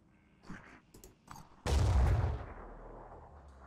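Hell cannon firing in the turn-based strategy game Phoenix Point: a few small clicks and taps, then one sudden heavy boom that rolls into a long, loud rumbling decay, alone with no talk.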